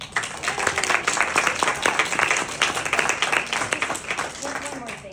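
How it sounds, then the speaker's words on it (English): Lively audience clapping at a school advisory meeting on Sanibel, honoring a longtime volunteer, dense and sustained for several seconds before easing slightly, with some voices mixed in. "I just want everybody to give her a round of applause."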